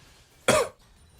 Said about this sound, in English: I coughed.